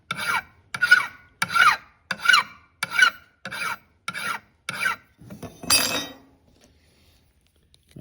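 A file rasps across a cast tomahawk head in about nine separate strokes at an even rhythm. The strokes are close and moderately loud, and a few faint scrapes follow before a quiet pause.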